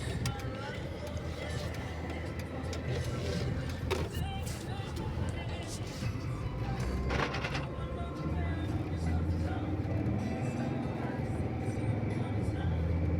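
Mercedes W211 E270 CDI 2.7-litre diesel with 5G-Tronic automatic gearbox pulling away and driving, a steady broadband engine and road rumble heard from inside the car with brief thumps along the way.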